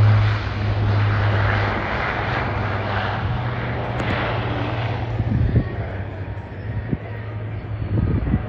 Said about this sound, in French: la 400M est un avion ravitailleur et ravitaillable